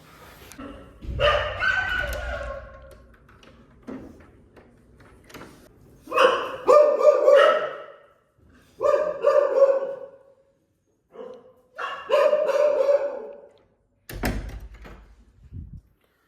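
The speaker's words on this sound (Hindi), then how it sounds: "बाहर कुत्ते भौंक रहे हैं" Several bursts of loud dog barking from more than one dog, coming in clusters separated by short quiet gaps, with a thud near the end.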